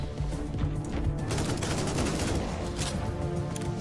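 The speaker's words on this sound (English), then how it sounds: "God, I love those rockets" Rockets fire in a barrage in the video game Warhammer 40,000: Inquisitor, dense rumbling blasts and rapid bursts running continuously, loud and close throughout.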